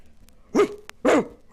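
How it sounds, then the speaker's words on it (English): A dog gives two short, sharp barks spaced about half a second apart, close and clear against a quiet background. "It was a dog barking."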